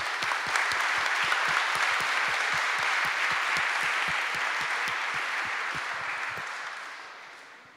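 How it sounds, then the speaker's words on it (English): A conference audience applauds two speakers at the close of a panel session on AI bias and ethics, a dense steady clapping that holds for several seconds and then gradually tapers off. "Now join me in a round of applause for our two speakers."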